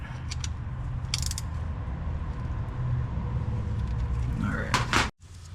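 An oil filter is hand-tightened on a Nissan Skyline GTR during an oil change, giving a continuous grinding, ratcheting mechanical rasp up close, ending in a brief clack before a short drop-off, with muffled talk in the background.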